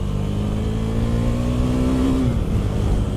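A 2018 KTM 390 Duke motorcycle engine revs up steadily, its pitch climbing over a few seconds and then dropping off, loud and close throughout, on a back road.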